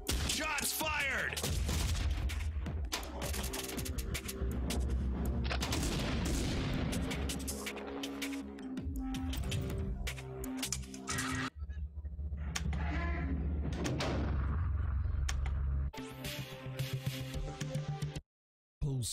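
Gunfire and booms on the Postal Redux table in Zaccaria Pinball mix with loud game music and effects across most of the stretch, then drop out near the end.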